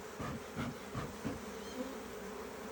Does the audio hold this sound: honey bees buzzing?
yes